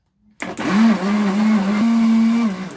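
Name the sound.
blender mixing garlic bread dough sponge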